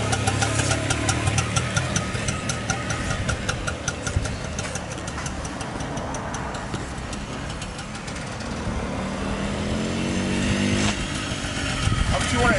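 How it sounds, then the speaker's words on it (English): A 1973 Harley-Davidson Aermacchi TX125 enduro motorcycle's 125cc two-stroke engine runs steadily and loud, its buzzy rattling tone rising a little near the end, with some voices faintly in the background. "a high-performance Aermacchi Italian-designed two-stroke engine"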